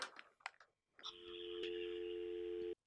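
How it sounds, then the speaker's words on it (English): A steady telephone dial tone hums continuously from an AT&T Merlin phone on a VoIP line, after some brief handling clicks and bumps, close and clear. "it should provide us a dial tone we can hear"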